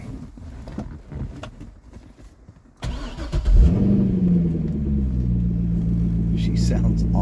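A 2008 Chevrolet Corvette C6 Z51 cranks and fires up after some quiet handling noises, then settles into a deep, loud, steady idle with a brief rev right as it catches; recorded up close.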